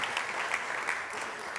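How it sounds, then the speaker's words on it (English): Brief, even applause from a conference audience at a startup summit stage, a moderately distant patter of many hands that carries on without pause. "big applause to Anna"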